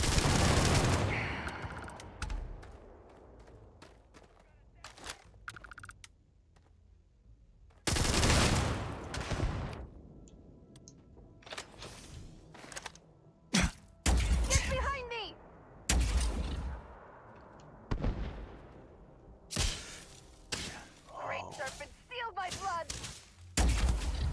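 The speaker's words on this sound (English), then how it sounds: "You're not supposed to be here! Open fire!" Video game gunfire in Starfield, loud bursts of rapid shots and volleys coming in waves between quieter gaps, with a voice speaking over parts of the fight.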